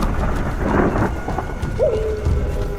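A loud thunderstorm with strong wind and heavy rain roars continuously, with dense rainfall and rumbling thunder filling the space throughout.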